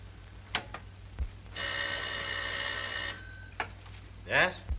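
An old telephone bell rings in one steady burst of about a second and a half, bright and metallic, in a quiet room in a 1942 war film, with brief speech just after.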